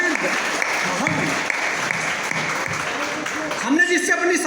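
Applause from the audience at a Hindi comic poetry gathering, a steady broadband clapping wash lasting throughout, with voices mixed in near the end.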